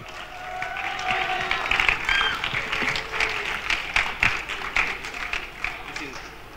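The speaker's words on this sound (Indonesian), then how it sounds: "Kita beri tepuk tangan buat kita semua." An audience claps to welcome a doctor onto the stage at a reproductive health education event, a lively round of applause with scattered cheers. The clapping swells and fades in waves, and voices can be heard talking beneath it.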